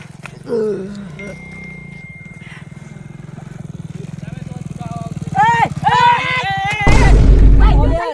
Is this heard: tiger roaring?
yes